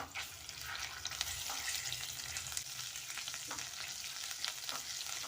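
Ginger garlic paste and a pinch of turmeric fry in hot oil in a pan, a steady close sizzle with occasional stirring scrapes and small crackles, no voices.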